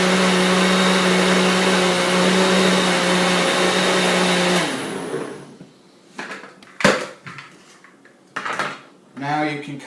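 A blender liquefies vegetable stew with broth, whirring loudly and steadily for several seconds before stopping, followed by clinks, knocks and kitchen handling sounds.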